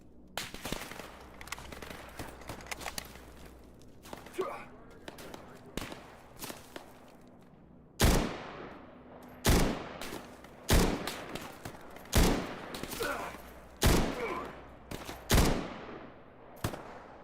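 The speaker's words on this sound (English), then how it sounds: "Someone's shooting at me." Video game gunfire in STALKER Gamma: sharp, loud shots crack out one at a time at irregular intervals, some near and punchy, others lighter, with quieter rustling and movement between bursts.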